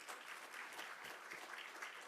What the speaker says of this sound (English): can we please have a round of applause as they take the stage?